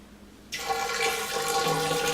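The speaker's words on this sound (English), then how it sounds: "So I will pour some water into the holding container." Water is poured into a one-liter holding container for a ball valve test, starting abruptly after a quiet moment and continuing as a loud, steady gushing fill with rising ringing tones as the vessel fills.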